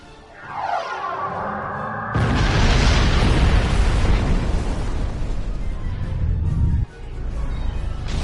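A sci-fi spaceship weapon in Star Trek Online whooshes in, then a long, loud rumbling blast roars for several seconds, cut off abruptly near the end before the rumble resumes.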